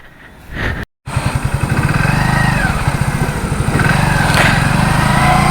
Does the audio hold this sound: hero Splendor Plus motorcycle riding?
yes